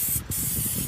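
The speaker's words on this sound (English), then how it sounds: "And I'm just going to start spraying around in here." Aerosol brake cleaner hisses steadily onto the brake parts of a 2014 Chevy Cruze during a pad change, with one brief pause between bursts before the close, continuous spray resumes.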